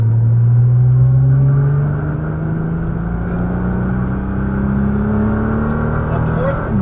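Nissan GTR engine accelerating on a track, a rising drone climbing in pitch with a dip as it shifts up a gear, heard from inside the car under an instructor's steady talk.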